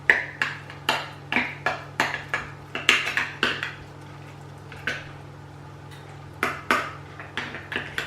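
Small baking tins greased with low-calorie spray are being filled with cake mixture, a metal spoon tapping and scraping against them in a quick series of light clinks, pausing midway, then resuming, close and clear with no voices.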